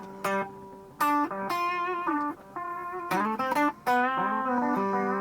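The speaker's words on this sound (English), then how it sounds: "It's more of a delay than a reverb" An electric guitar playing sustained notes through a Line 6 delay effect, tones repeating and smearing into each other with echoing trails between phrases.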